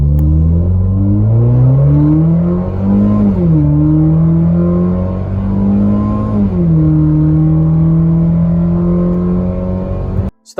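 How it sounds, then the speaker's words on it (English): A 2018 Ford Fiesta with a cold air intake runs 0 to 60, its engine loud and close as it climbs through the gears, the revs rising then dropping at each of two shifts before the run stops abruptly. "Here's a quick 0 to 60."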